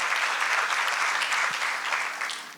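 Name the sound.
audience applause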